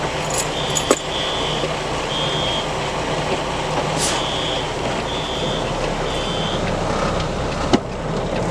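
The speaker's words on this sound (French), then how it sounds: "Je vais ressortir le camion sur le parking là" A truck reverses out onto a parking lot, its backup alarm sounding a steady series of evenly spaced high beeps over a constant engine rumble, with a couple of sharp clanks.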